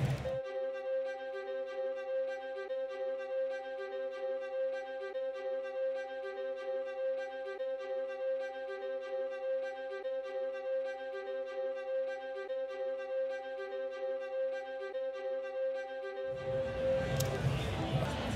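A programmed violin loop stem with a steady, repeating string pattern runs evenly for most of the passage and stops abruptly near the end. It comes from scoring for Amazon's 'Mozart in the Jungle'.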